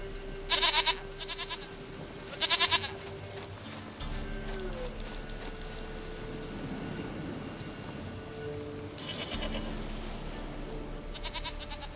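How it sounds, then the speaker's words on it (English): Goat in The Witcher 3: Wild Hunt letting out a few loud, close bleats, two short cries at the start and more near the end, over a steady ambient wash of outdoor game sound. "Goat of mine! Dearest, sweetest goat!"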